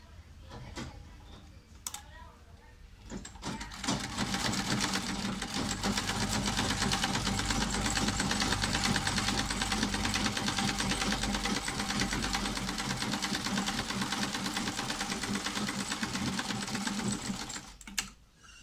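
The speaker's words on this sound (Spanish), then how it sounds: "Vamos a coser, vamos a pasar una costura de seguridad por aquí por el doblez" Sewing machine stitching a seam along the fold of a washable filtered face mask, running loud and continuous at a fast, steady whir for most of the time, starting after a few brief taps.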